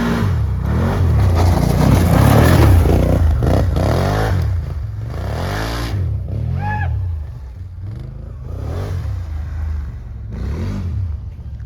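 A wheel loader's engine revs up and down repeatedly nearby, loud sweeping engine surges that later settle to a lower idle, with clattering metal and a brief squeal mixed in.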